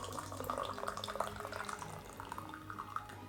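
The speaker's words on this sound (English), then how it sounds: "let's give it a pour." Dancong oolong tea infusion being poured, a steady watery trickle running close and fairly quiet for a few seconds, with faint drips over it.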